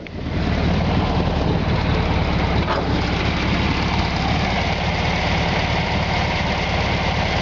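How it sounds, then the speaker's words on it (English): A 1976 VW Super Beetle convertible engine idles steadily with a low, even rumble and light mechanical knocking, close and continuous with no talk over it. "Still got the engine running."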